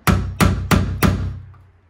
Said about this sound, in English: I'm gonna take that nail again and make an indent